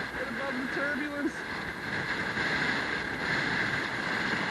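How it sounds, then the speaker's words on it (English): Strong wind of about 57 km/h buffets the microphone in a steady broadband roar, with a few faint tonal chirps early on and no clear voices over it. "It's too windy."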